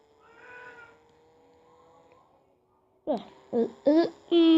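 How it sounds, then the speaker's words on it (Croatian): A cat meows several times in short, loud, close bursts, following a quieter stretch of faint background sound. "To je moj mačak."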